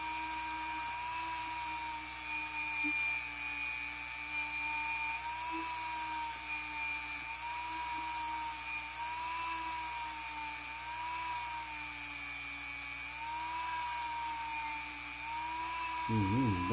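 A rotary tool grinds steadily at oxidization on a part of a Hornby Triang Britannia model steam engine, a continuous high whine with slight pitch wavering under light pressure, close and unbroken for the whole stretch.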